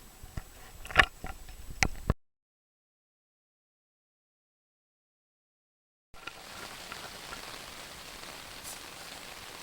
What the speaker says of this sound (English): Not sure if you can hear the rain this morning